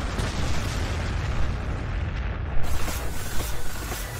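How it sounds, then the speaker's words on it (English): Artillery barrages in the strategy game Warhammer 40k Gladius: Relics of War, a dense continuous rumble of explosions and booms with sharper impacts bursting through in the second half, loud and without talk. "There's the artillery."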